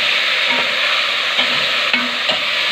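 A loud, steady sizzle rises from soaked lentils and vermicelli sautéing in a pan, with a few soft stirring scrapes and no talk.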